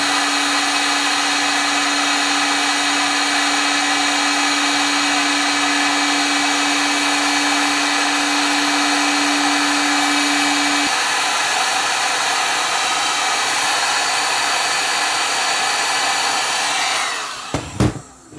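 A hot air blower heats an audio head to melt its glue, blowing with a loud, steady, unbroken roar for about seventeen seconds before it cuts off abruptly near the end.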